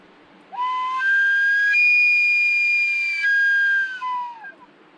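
A whistle imitating an elk bugle, played outdoors at a survival camp: one sustained, loud tone that rises in pitch, holds high and slides back down, about four seconds long with no talking.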